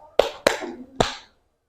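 A classroom clapping pattern called tepuk 3: three sharp, close hand claps, the first two quick together and the third after a short pause, then silence.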